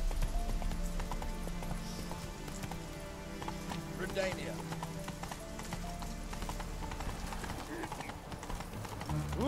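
Roach, the horse in The Witcher 3 game, trots with a rhythmic, continuous clip-clop of hooves beneath steady background music, while a person speaks over it.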